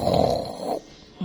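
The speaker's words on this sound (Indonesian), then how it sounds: "Mungkin dia sampai ngorok ya" A sleeping man snores, a single loud, rough breath lasting most of the moment, then a short quiet pause before the next snore begins. Nobody speaks.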